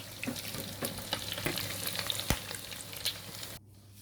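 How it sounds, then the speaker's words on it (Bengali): Double-coated pieces of food fry gently in a pan over low heat, a close, continuous bubbling sizzle with small crackles that cuts off abruptly near the end. "একটু 5 থেকে 7 মিনিট একে ফ্রাই করলে পরে এটা হয়ে যাবে।"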